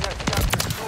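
Video game gunfire in Modern Warfare 3: a dense, continuous burst of shots under a short spoken remark.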